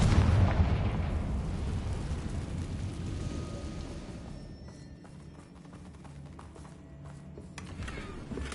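A Confringo fire spell explodes in Hogwarts Legacy: a heavy, close blast that decays into a long, rumbling roar, with scattered crackling debris and pops as it fades.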